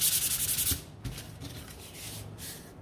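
Sandpaper rubs briskly over dry painted wooden bunting flags, a close scratchy rasp for under a second before dropping to faint, quieter rubbing and handling.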